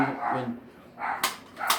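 A dog in a video game barks in a few sharp bursts, near and loud, with a brief yelp between them.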